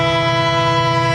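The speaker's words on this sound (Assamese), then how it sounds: "ট্ৰেইন এখন আহি আছে" A train nearby sounds a sustained, loud horn blast with steady tonal layers under broad rumble, heard alone without talk.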